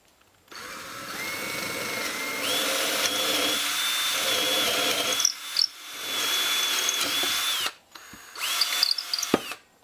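A power drill whirs steadily through soft white wood for a toy, stopping briefly a couple of times and restarting, close by with no talking.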